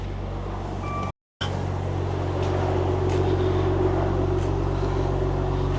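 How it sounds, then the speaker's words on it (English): A 2017 Maserati Ghibli S in sport mode turns over after a brief silence, then settles into a deep, steady, loud idle rumble that holds evenly to the end. "Let's start her up so you can listen. Put her in sport mode."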